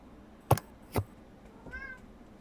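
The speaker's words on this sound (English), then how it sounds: "Cat, why are you so needy?" A cat meows once, a short, fairly faint call heard near the end. Two sharp knocks or clicks come before it during a quiet stretch of a tabletop game session.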